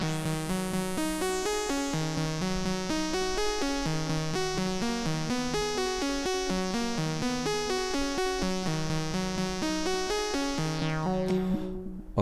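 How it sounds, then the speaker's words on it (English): A Eurorack melody sequence voiced by a Noise Engineering Z-DSP oscillator, its pitch stepped by a Varigate 8 sequencer, plays as a steady, bright run of repeating notes with a rich harmonic tone, continuing alone until it cuts off near the end. "I have a sequence set up with the Z-DSP oscillator from Noise Engineering as a sound source, and I'm modulating the pitch of this sequence with my Varigate 8 sequencer."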